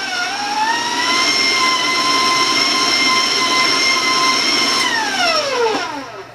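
Electric mixer beating applesauce spice cake batter: a loud, steady motor whine with strong harmonics holds at one pitch, then drops away as the mixer slows near the end.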